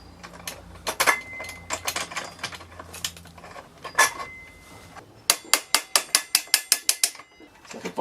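A ratchet tightens a bicycle-style wheel nut on an electric drill powered dirt bike, with scattered metallic clicks and clanks followed by a steady run of sharp, evenly spaced ratcheting clicks, close and clear.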